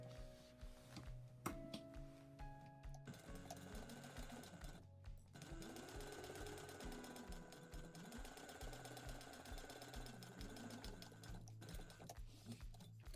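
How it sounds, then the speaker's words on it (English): A sewing machine runs steadily and close by as it stitches a half-inch seam on a fabric sling with foam padding, a continuous mechanical whir for the whole stretch. "we're going to sew this together at a 1/2 inch seam allowance."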